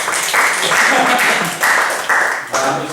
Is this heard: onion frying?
no